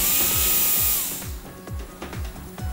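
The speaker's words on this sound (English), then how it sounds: "Some 100 types of spare parts are made through manual and CNC lathe" Manual and CNC lathe machines in a motorcycle factory machining spare parts: a loud high-pitched machining whine fades after a second into steady workshop clatter, with repeated low thumps and metallic clicks.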